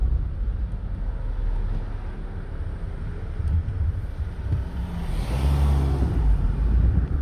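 An Acura RSX accelerates hard on the road, its engine a loud, close cabin roar that builds steadily and swells toward the end.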